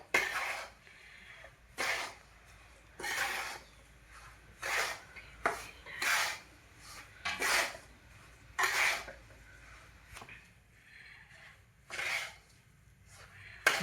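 Semolina (rava) being roasted in a pan, heard as a series of short, dry scraping strokes of stirring at an uneven rhythm, each a second or so long, with quiet gaps between and no talking.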